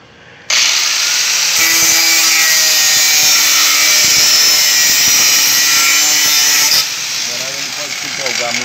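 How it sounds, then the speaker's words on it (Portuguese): Drill bit grinding against very hard steel while making a homemade knife, a loud steady high-pitched whine and rasp running for about six seconds, with someone speaking briefly near the end. "Queima a broca, mas não fura."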